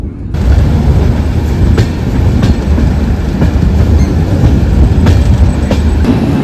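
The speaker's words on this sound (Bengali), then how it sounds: "এবার আসছে ট্রেন নাম্বার চোদ্দ হাজার ছশো দশ" A passenger train on the Haridwar–Delhi line in India rumbles past close by, loud and steady, with rhythmic clickety-clack of wheels over rail joints throughout.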